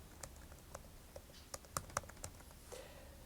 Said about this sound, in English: you can hit the search bar and just type in medical